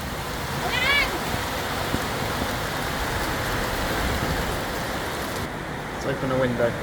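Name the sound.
rain approaching and falling on roof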